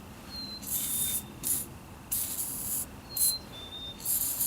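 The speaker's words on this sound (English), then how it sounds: "This is what I sprayed on the other control valve underneath there" PB Blaster penetrating oil sprayed from an aerosol can onto a control valve of a 110 TLB, several loud, close hissing bursts of varying length with short pauses between them.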